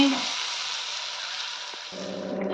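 Steady, dense sizzling of a fish head frying in hot oil, close and continuous, with a brief low clatter near the end.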